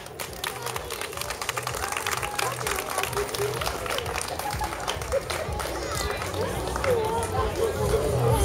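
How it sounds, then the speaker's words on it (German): Sustained applause and crowd noise from an audience at an outdoor street festival stage in Gevelsberg, honoring a guitarist named Toni, steady and dense for several seconds with background hubbub and a rising swell near the end. "Und einen kräftigen Applaus bitte noch einmal für Toni"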